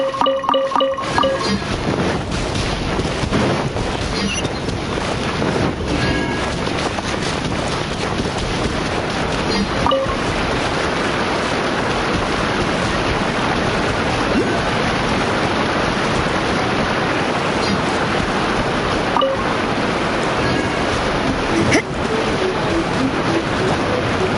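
Waterfall in the Genshin Impact video game, a steady broadband rush of falling water filling the whole scene at a constant level, with faint game chimes and a few soft clicks over it, no talk.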